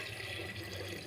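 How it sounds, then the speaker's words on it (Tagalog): Water pours steadily into a cooking pot for salmon sinigang, a continuous close splashing fill with no talk. "And lagyan ko na po ng tubig."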